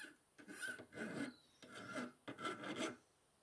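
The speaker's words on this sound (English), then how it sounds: "I'll file off the rough edges that the hacksaw left on the bolt." A metal file rasps across the rough hacksawn end of a bolt in three or four separate stroking bursts, close and moderately loud, each stroke a gritty scraping rasp with short pauses between.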